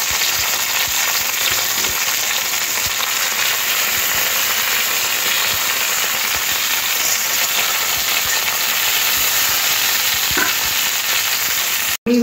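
Bitter gourd slices frying in hot oil in a pan, a loud, even sizzle and hiss running continuously with small crackles and occasional light stirring taps, ending with a brief knock.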